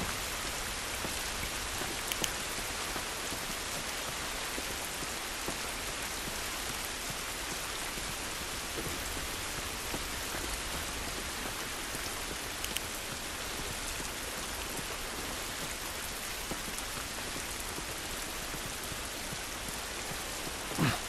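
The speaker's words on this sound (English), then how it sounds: "This rain ain't gonna do us any good." Steady rain falls outdoors in the video game The Last of Us, in the outskirts area. It makes a dense, even hiss of drops that continues unbroken and fairly loud throughout, with no voices.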